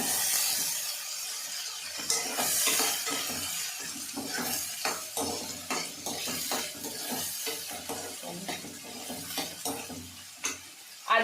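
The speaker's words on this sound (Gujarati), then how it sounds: "હવે તેને ધીમા ગેસે હલાવશું" Chopped onion and finely chopped tomato stirred in a pan over a low flame, a steady run of scraping spoon strokes with soft sizzling and occasional clinks against the metal, close by with no talk.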